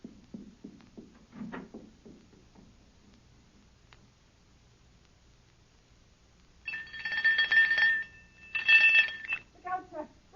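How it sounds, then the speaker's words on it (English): A shrill electric bell rings in two bursts after some quiet talking and soft knocks. "Ring the doorbell."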